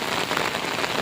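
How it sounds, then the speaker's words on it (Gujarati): Heavy rain pours down steadily during a thunderstorm near Mini Girnar in Gujarat, a dense, loud hiss of drops striking surfaces with no other sounds. "અને અત્યારે વરસાદ સારો પડે છે."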